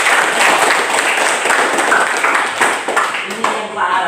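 Students in a classroom clap together in a loud, close round of applause that thins out toward the end as a voice begins speaking.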